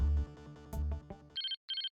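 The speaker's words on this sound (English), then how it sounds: "Oh, phone call." Video game phone ringing in two short electronic bursts after a loud musical passage, the tone clean and bright, heard alone without talk.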